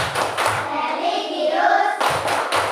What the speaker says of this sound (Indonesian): Ibu mau tepuk PPK.